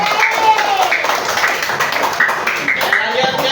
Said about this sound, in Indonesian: Kasih tepuk tangan untuk kelompok Ainur.